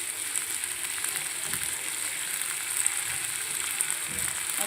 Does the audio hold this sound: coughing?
no